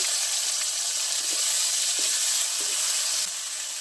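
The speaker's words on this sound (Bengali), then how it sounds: "বাটা পেঁয়াজ, এটাও ভালো করে একটু ভেজে নেব।" Onion paste frying in hot oil in a pan for a Bengali fish curry, giving a steady, close sizzle and hiss that goes on throughout with no talk.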